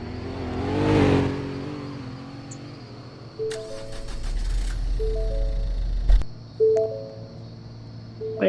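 A brand new DOT snow plow truck drives along a street, its engine rumbling low and steady while horn-like tones and brief mechanical clanks rise over it, with one swelling pass early on.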